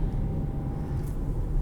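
A 2021 Kia Sorento EX's 2.5-litre engine while driving, heard as a steady, low cabin drone with road rumble throughout, ending in a brief louder knock.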